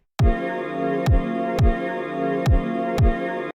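Kick drum with sidechain ducking in a mix, six punchy evenly spaced hits under a sustained synth and music bed that dips and swells back after each thump.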